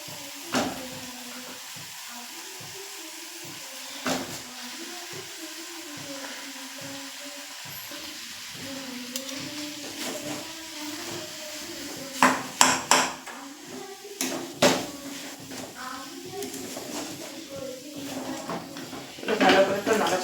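A utensil scrapes and clinks in a pan as boiled potatoes are stirred into a cooked-down spice mix for prawn chops, soft irregular knocks under steady talk, with a few sharper taps near the end.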